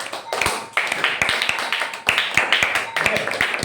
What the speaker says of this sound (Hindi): इस बड़ाई के लिए तालियां हो जाए